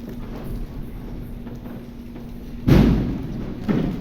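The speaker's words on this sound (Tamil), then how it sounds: "தீபாவளிக்கு எல்லாம் பட்டாசு அடிக்கிறாங்க. டம்முன்னு கேட்குது வெளியில்." Diwali firecrackers burst outside: one heavy, muffled boom lands with a low thud, and a smaller second bang follows about a second later. A steady low hum from the room sits underneath, with no talk over them.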